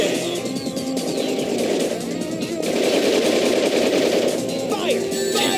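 Sustained automatic gunfire in the Shadow the Hedgehog video game, a loud continuous rattle of rapid shots running throughout with battle noise behind it.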